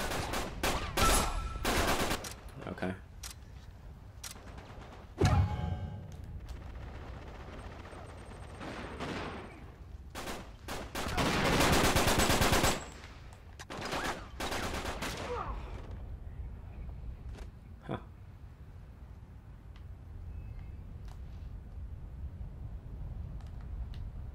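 Gunfire crackles through an Uncharted 3 multiplayer match, with repeated bursts and single shots scattered across the stretch and one dense sustained volley near the middle, loud and close with quieter lulls between.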